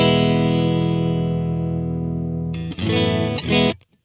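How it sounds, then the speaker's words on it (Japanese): Dry electric guitar with no effect applied: one chord rings and sustains for about two and a half seconds, then a few quick, close strums follow before the sound cuts off. "まずは、普通のギターのそのままの音。"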